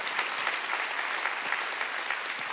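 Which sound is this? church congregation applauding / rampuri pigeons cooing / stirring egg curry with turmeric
church congregation applauding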